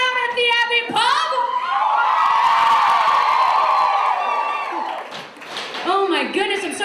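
A comedy-show crowd at the Abbey Pub erupts in loud cheering, whooping and applause that swells for several seconds and then fades, with a host's voice speaking before and after.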